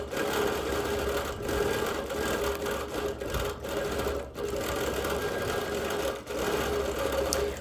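A sewing machine stitching free-motion quilting on a show quilt, running steadily and close with a continuous fast mechanical whir and brief pauses, no talking.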